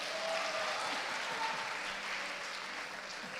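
A church congregation applauds throughout, a continuous, fairly quiet wash of many hands clapping that fades slightly toward the end, with no talking.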